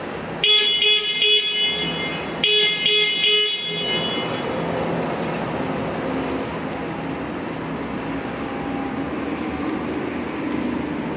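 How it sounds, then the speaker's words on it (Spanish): Two loud bursts of a harsh horn on a SINOBOOM GTZZ articulating electric aerial work platform, the second a double honk, over steady machinery rumble that continues after the horn stops. "tenemos lo que es el claxon"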